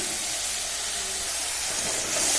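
Spice paste of ground chilli and other powdered spices sizzles in a pan as drops of water hit it, a close, steady hiss that swells louder near the end.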